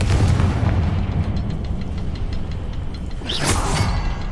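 A Confringo blasting spell explosion in the Hogwarts Legacy video game booms over steady rumbling game noise, with a sharp burst near the end.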